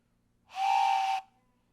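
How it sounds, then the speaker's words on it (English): A single breathy whistle blast, about three-quarters of a second long, steady and fairly loud, from a wooden train whistle blown up close. "They are wooden train whistles."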